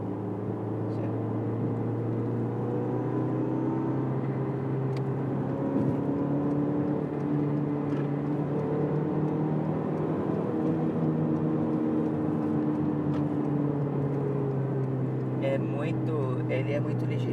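A 1993/94 Chevrolet Vectra GSI heard from inside the cabin, its engine revving above 3000 rpm with a steady, droning hum that holds throughout as someone talks over it.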